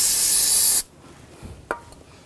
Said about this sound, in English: A little brake parts cleaner.